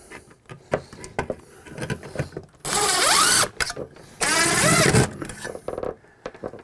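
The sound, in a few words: screws being driven to mount Saniflo macerator on wall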